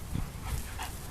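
A dog close by makes short huffing, whimpering breaths, a few soft bursts over a steady background rumble.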